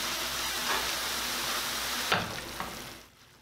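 Pak choy leaves stir-fry in a hot pan, giving a steady, close sizzle with brief scraping stirs partway through before the frying noise drops away at the end.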